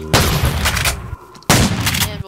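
A weapon fires in Minecraft's Flan's Mod: two loud, close blasts about a second and a half apart, each with a short decaying tail.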